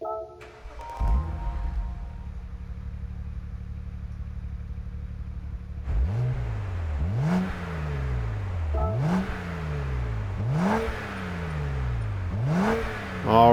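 A 2009 Abarth 500 in Gran Turismo 7 cranks with a short whir, then fires into a steady idle before a string of five or six sharp throttle blips, each rev rising and falling in a regular rhythm, loud and close.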